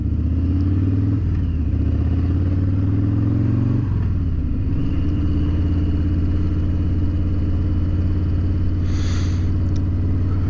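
A 2019 Harley Davidson Breakout motorcycle rides along, ridden to recharge a failing battery, its engine a steady, loud, low rumble that drops in pitch briefly and then settles back into a continuous drone.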